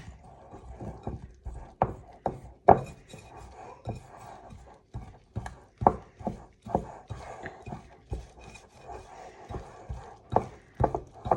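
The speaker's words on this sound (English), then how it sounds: "slowly mix it in. I'll kind of go along rotating it and scraping off the sides." Sourdough dough being mixed by hand in a round bowl, with repeated soft wet slaps and scrapes against the sides in an uneven rhythm, close and fairly quiet, with no talking.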